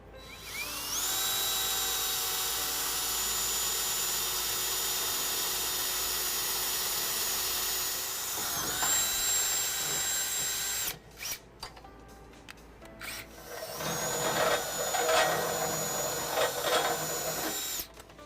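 A power drill bores a half-inch hole through the frame of a 2013 Ram 1500 pickup. A steady high whine runs for about eight seconds, breaks off, then returns in a rougher, grinding burst near the end.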